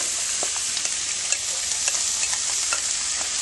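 Vegetables and browned tofu stirred in a hot pan, with a steady bright sizzle of frying and scattered scraping clicks of the utensil, close and continuous, with no voices.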